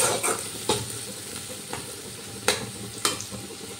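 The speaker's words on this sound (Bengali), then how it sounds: "এবার সব মশলাগুলো ভালো করে কষিয়ে নিতে হবে, যাতে মশলার কাঁচা গন্ধটা না থাকে।" Spices with turmeric stir-frying in a pan for a pumpkin dish, a continuous sizzle broken by sharp scrapes and knocks of a spatula at irregular intervals.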